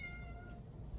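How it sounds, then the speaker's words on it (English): A housecat meows once, a short, faint call at close range set against a steady low background hum. "Excuse my cat. She's very vocal right now."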